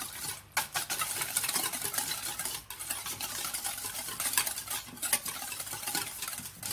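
Sugar is stirred into banana cake batter in a bowl, a quiet continuous scraping and swishing with soft irregular taps of the utensil against the bowl, close and alone.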